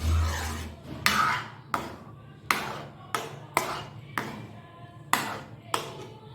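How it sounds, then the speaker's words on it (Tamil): Thick papaya fruit halwa stirred and scraped in a pan, about nine sharp scraping strokes at a steady, unhurried pace, each a brief rasp against the metal, close and fairly loud. "இப்போது கையெடுக்காமல் நல்லா கிண்டி விட்டுட்டே இருக்கலாம் நல்லா கெட்டியாகும்"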